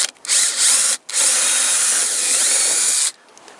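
A power drill bores a small hole in a broken plastic Toyota light part, a loud steady whine with short stops and restarts at the start, then one long continuous run before cutting off.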